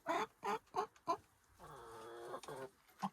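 Chickens clucking inside a backyard coop built as a combined coop and run, a series of short close clucks followed by a longer drawn-out vocal call and a final cluck.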